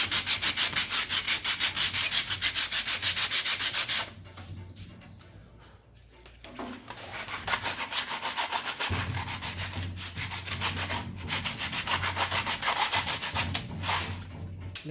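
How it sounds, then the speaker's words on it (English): Steady back-and-forth rubbing of sandpaper on a belt sander part in a home workshop, close and rhythmic, pausing briefly midway before resuming. "we're gonna use the sandpaper here."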